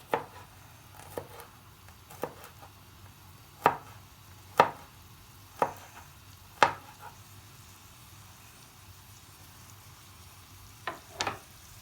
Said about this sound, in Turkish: iki diş kadar da sarımsak doğruyoruz.